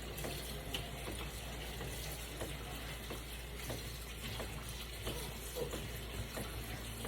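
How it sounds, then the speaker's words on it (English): Cold tap water runs steadily into a sink to rinse cooked pasta for a chicken Alfredo casserole, a continuous close hiss with faint clatter and no talking. "I'm going to make sure it's cold water. Rinse the pasta."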